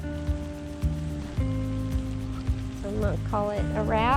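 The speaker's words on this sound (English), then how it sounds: "the rain's coming again" Steady rain patters and hisses on surfaces outdoors in a garden with raised beds, while a person talks over it.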